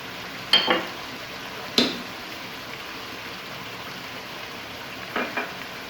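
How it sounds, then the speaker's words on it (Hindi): Spices frying in a pan for chicken karahi, a constant soft sizzle broken by a few sharp scrapes and clinks of a spoon against the pan, with no voices. "अब इनको अच्छी तरह से मिक्स करके तकरीबन 2 मिनट के लिए फ्राई कर लेना है।"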